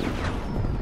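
A grenade blast in the shooter game Battlefield 2042 gives a loud, broadband burst that fills the whole moment, booming and close, with no talk over it.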